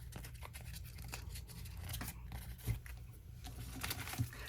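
Thin paper being torn and folded by hand for mixed media collage work, with soft scattered rips and crinkles close to the microphone, fairly quiet over a faint low room hum.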